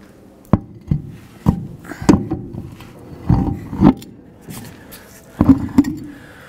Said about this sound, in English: Now let's get the wheel on.